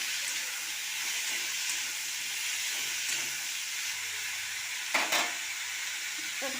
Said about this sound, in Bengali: এবার সবজিটাকে লো ফ্লেমে আস্তে আস্তে করে ভাজতে থাকবে।